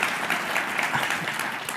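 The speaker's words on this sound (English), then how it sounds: "Can we get one more round of applause for all our fantastic students?" A short burst of steady, lively clapping from an audience at a school budget meeting, a round of applause for the students that fills the whole moment.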